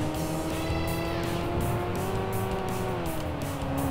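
Race car engine in Tokyo Xtreme Racer 3 drones steadily and loudly throughout, its pitch holding level with slight shifts, while tire squeal threads over the top; no one talks.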